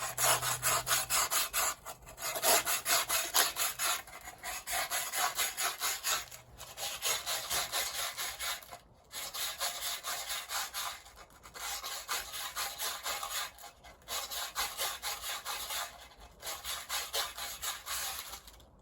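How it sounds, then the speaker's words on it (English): Sandpaper folded into a rounded shape rubs around the inner edge of a handmade wooden goblet, a steady close scratchy rasp in repeated strokes with brief pauses between passes. "Fold our sandpaper up into a more rounded surface. Same thing, equally sand."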